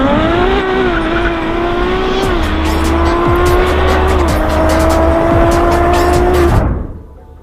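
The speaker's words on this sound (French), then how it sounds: "Mon premier launch control!" A car on a race circuit makes a launch-control start: the engine holds a loud steady rev while the tires squeal and chirp, the roar climbing through a gear before cutting off abruptly near the end.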